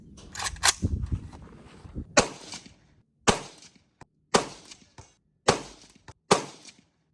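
AK-47 rifle shots fired at a target on a range: a burst of several shots up front, then four evenly spaced, sharp, loud single cracks with short decays and silence between them.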